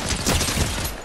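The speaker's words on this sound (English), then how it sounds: "You're really shooting at me?" Rapid bursts of gunfire from the video game Fortnite, a dense volley of shots filling the whole second at steady, close, loud level with no talk over it.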